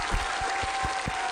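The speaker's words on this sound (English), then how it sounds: "Can we get a round of applause for Will" Steady wash of audience applause on a game show, continuous and fairly even, with a faint tone running beneath the clapping and a few low thumps.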